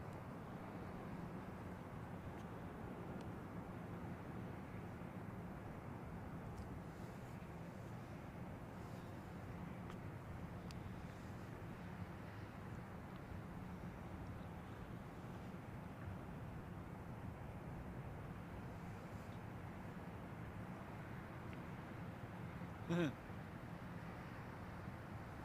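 An Etihad airliner taxis at London Heathrow Airport, a steady low engine rumble and whine holding evenly at a distance throughout, with a brief faint click near the end.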